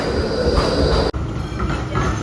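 A Melbourne tram on Bourke Street rumbles nearby with a metallic squeal from the rails, a brief sharp drop in the middle, then the rolling noise carries on.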